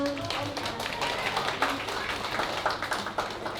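Audience clapping at a kindergarten K3 graduation show, steady dense applause throughout with a hall murmur and voices underneath.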